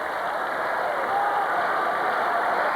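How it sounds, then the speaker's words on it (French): A large stadium crowd at a rugby sevens World Cup final in Mar del Plata roars steadily, calling for the New Zealand team to perform a second haka, a dense continuous wall of cheering at close range. "vous entendez la foule qui demande aux Néo-Zélandais un deuxième haka"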